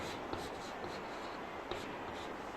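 Chalk or marker strokes on a classroom board as a chemistry equation for a basic buffer solution is written: faint, continuous scratchy rubbing with a few light taps.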